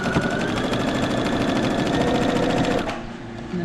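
A sewing machine runs steadily while stitching straight through a fabric face mask, its fast, even whirring chatter loud and close before stopping abruptly near the end.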